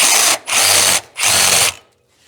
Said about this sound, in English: I hate this drill. If it gets under any kind of load, it just stops.